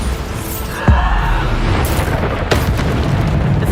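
Bombarda spell blasts in Hogwarts Legacy, two sharp explosive booms about a second and a half apart over a loud continuous rumbling bed, no talking.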